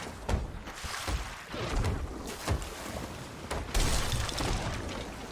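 Frantic bailing of seawater with buckets aboard a ship in the pirate game Sea of Thieves, heavy repeated splashes and sloshing bursts over a constant rush of waves and wind.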